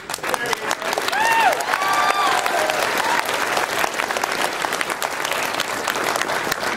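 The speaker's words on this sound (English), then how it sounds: "Let's give you a round of applause" Audience applause and cheering at a university physics holiday colloquium, a dense, steady wash of clapping from a crowd lasting throughout, with a few brief whistles or shouts rising early on.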